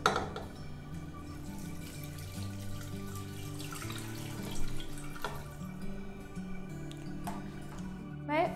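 One litre of water pours steadily into a pot of meat with salt and garlic-ginger paste, a continuous splashing flow with a few louder gurgles, and no one speaking.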